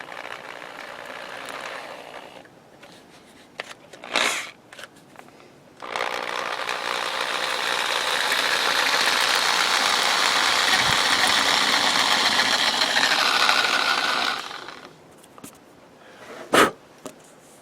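Small electric drill turning slowly at low speed while working on a golf club during shaft removal, a steady whirring hum of about nine seconds framed by quiet handling clicks.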